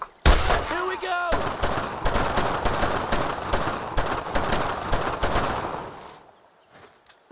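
Rapid machine gun fire during a World War II firefight in Brothers in Arms: Road to Hill 30, loud close bursts of quick shots that go on almost without pause, then trail off into fainter distant shots, with shouting voices mixed in.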